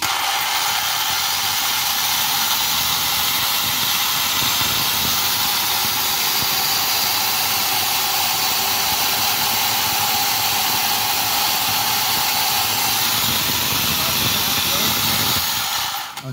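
Dual electric motors of a Redcat Shredder RC truck, one a 12 volt 3S motor that is defective, whine steadily at part throttle with a broad hiss, sustained and loud for the whole stretch without pause.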